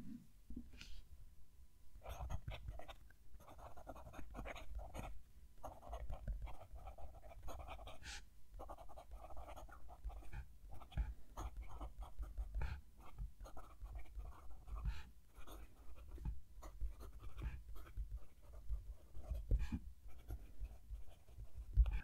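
A Lamy Safari fountain pen nib moves across paper with faint, close scratching in short strokes and small pauses, quiet and whispery, with no talking.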